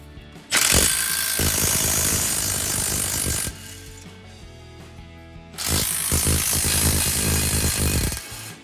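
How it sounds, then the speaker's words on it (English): Impact wrench fitted with a wobble extension running off 13mm flange bolts on a 2011-2020 Ford F-150, two loud sustained rattling bursts of about three seconds each, separated by a quieter pause. "I'm going to use the impact with a wobble extension just because we've got some tight corners"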